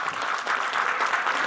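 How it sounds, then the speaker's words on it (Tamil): A crowd at a film audio launch event claps in a steady, dense burst of applause, loud and close, with no talk over it. "அதனால ஒரு கைத்தட்டலான்னு நினைக்கிறேன் நான்"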